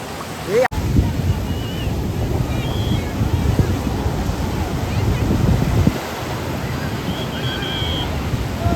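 Stormy sea waves at Kashid beach roar in a continuous, loud wash of surf mixed with heavy wind buffeting the microphone, with no clear talk.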